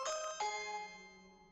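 Two-tone ding-dong chime of a video doorbell in an advertisement, a bright struck tone followed by a lower one that rings out and slowly decays, loud and alone with no talking.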